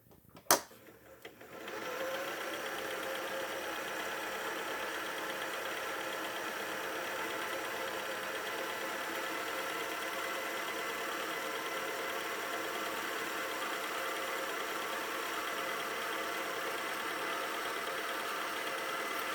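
A sewing machine winds a bobbin: after a short click it spins up into a steady, fast, close whirring drone that holds evenly to the end, with no talking.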